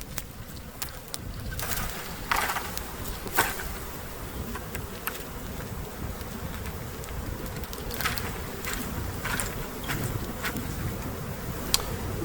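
A honeybee swarm clustered on a branch is knocked into a bucket, a faint steady hum of many buzzing bees outdoors with a few soft thumps and bumps scattered through.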